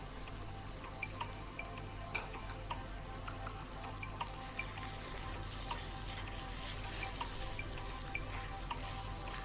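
Jaggery melts in a pan with a soft, steady sizzle and bubbling while it is stirred, with small scraping ticks now and then. A low hum runs beneath it.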